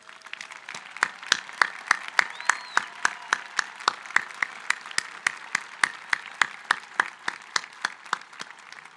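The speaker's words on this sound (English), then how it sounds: "we would like to thank you for your service with a round of applause" Sustained round of applause at a college commencement honoring military veterans, a large seated crowd clapping steadily and loudly with sharp, evenly spread claps throughout.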